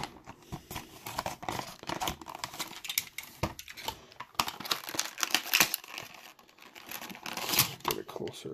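Plastic and cardboard packaging of a toy vehicle crinkles, snips and tears in quick, irregular bursts at close range, with faint vocal sounds mixed in.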